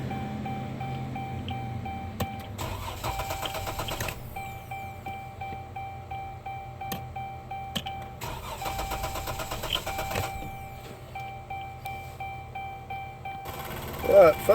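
A 2011-2020 Dodge Durango 3.6L Pentastar V6, fitted for an exhaust back pressure test, cranks in several bursts with starter whirring and an electronic tone between attempts, close and moderately loud, ending in a brief louder burst.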